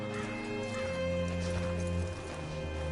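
Horse hooves clip-clop in a PS4 video game, a steady rhythmic patter mixed under sustained tonal game music and ambience.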